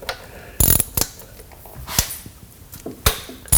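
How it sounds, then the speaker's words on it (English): A ratchet fitted with a 10 mm socket loosens transmission bolts on a 2000 Mustang GT's 4R70W transmission during a shift kit install, giving several close, sharp bursts of ratcheting clicks separated by short pauses. "You need a 10 millimeter socket to get them loose."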